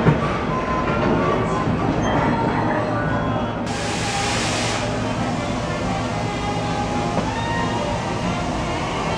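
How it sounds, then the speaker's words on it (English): Disneyland Railroad train ride circling the park near New Orleans Square, with a steady rumble of rolling cars and wheel clatter throughout, close and continuous, with a brief brighter hiss partway through and faint voices under it. "welcome aboard the Disneyland Railroad."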